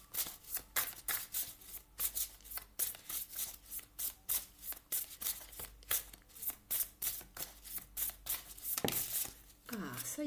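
A deck of tarot cards shuffled by hand in quick repeated riffling bursts, close and fairly soft, with a steady rhythm that pauses near the end.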